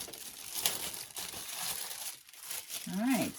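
Wrapping on a subscription package crinkles softly as it is opened, a faint, uneven rustle with a voice talking briefly near the end.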